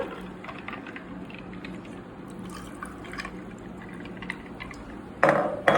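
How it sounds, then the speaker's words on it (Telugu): Fresh cucumber lemonade pours steadily into a glass with a soft trickling, ending in a louder splash and clink of ice near the end. "ఫ్రెష్గా చేసిన కుకుంబర్ లెమనేడ్ వేసుకుందాము పైన."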